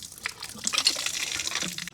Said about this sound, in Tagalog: Okay na po yung ating gripo.